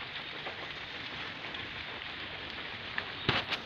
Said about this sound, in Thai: ฝนเงี้ยยังตกแป๊กๆๆๆ